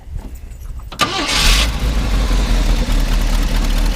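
A 1971 Ford F250 Camper Special bumpside pickup cranks briefly and catches, then settles into a loud, close, rumbling idle with a faint exhaust-manifold leak.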